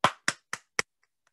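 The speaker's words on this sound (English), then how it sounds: "Clap your hands harder to make a louder song." Four sharp hand claps in a steady, evenly spaced rhythm, close and loud, each one striking hard and ending quickly, followed by silence.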